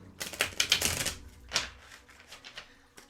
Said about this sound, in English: Let me just shuffle these up.